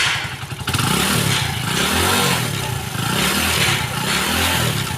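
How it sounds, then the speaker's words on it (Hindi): A motorcycle engine revs loudly and steadily for several seconds as the throttle is opened, a rough low drone with a charging fault in the rectifier, close and continuous with no talk. "अब एक्सीलेटर दो भाई"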